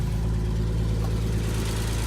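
A 1963 Jaguar E-Type fixed-head coupé idles close by with a steady, even engine hum and a continuous low rumble, with no talk over it.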